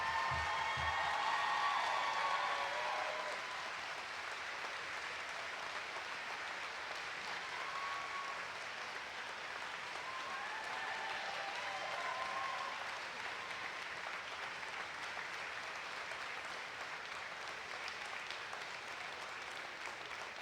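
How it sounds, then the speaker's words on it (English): A commencement audience applauds in a large hall, sustained dense clapping with some cheering that swells and then holds steady, heard from within the crowd throughout. "Even with that great applause"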